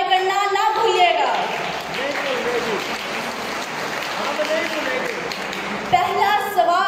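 A studio audience at a Pakistani children's quiz show claps in a steady, sustained round of applause, with a host's voice speaking over it at the start and end.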